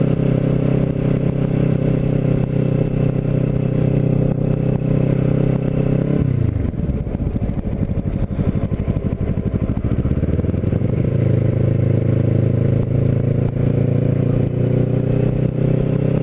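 A Kawasaki Ninja motorcycle rides through a winter residential area in the Villas, Lower Township, its engine droning steadily and close with a pitch drop while slowing midway before picking up again, continuous and without talking.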